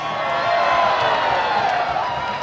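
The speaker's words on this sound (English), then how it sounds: "make some noise tonight for Blake" Arena crowd at a Reno Ice Raiders hockey game cheering and clapping for a contestant named Blake, a steady wash of whoops and applause filling the whole moment, moderately loud and continuous.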